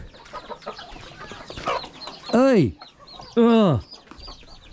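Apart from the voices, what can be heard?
Rhode Island Red chickens clucking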